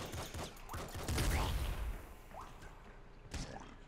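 A top-down arcade shooter weapon fires in a rapid, ragged stream of shots and impacts, dense and continuous with whooshing bursts layered over a busy game soundscape.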